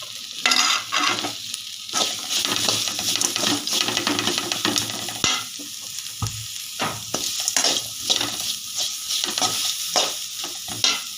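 Onion, chili and mutton masala frying for fried rice, with a steady sizzle broken by repeated bursts of scraping and stirring as the mix is tossed in the pan.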